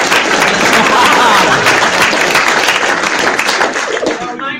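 A conference audience at 20Books London 2018 claps in dense, sustained applause that fills the room and then tapers off near the end.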